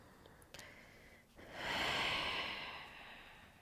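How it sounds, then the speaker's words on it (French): Breathing during a pilates exercise, a close, audible inhale then a long, airy exhale that swells and slowly fades. "Encore une respiration."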